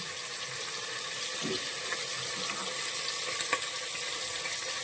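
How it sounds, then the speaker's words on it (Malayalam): Squeezed tamarind water poured into a fish curry cooking in a pressure cooker, a faint steady trickle and splash of liquid running for several seconds with no voices. "പിന്നെ നമ്മൾ ഈ പുളിവെള്ളം കൂടി പിഴിഞ്ഞൊഴിക്കുകയാണ്"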